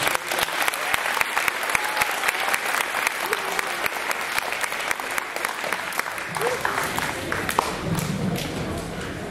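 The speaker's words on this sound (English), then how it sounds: "give the second graders one big round of applause" An audience at a school Veterans Day event applauds second graders with steady, fairly loud clapping, a few thumps and voices mixed in throughout.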